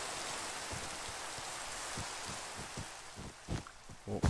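Steady hissing rainfall in Minecraft during a Bedwars match, a dense, even wash of noise with soft low thumps and a few sharper game knocks near the end.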